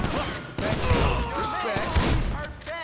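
Bursts of gunfire from the video game GTA 5, a few sharp thuds and shots mixed with loud game sounds and voices talking over them.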